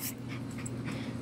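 A fluffy dog pants in quick, steady breaths close to the microphone, a continuous rhythmic huffing with no talking.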